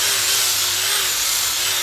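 Electric drill on low speed lapping a Classic Mini balljoint cup, a loud close continuous whine with a faint wavering pitch and a gritty grinding hiss from metal rubbing against metal.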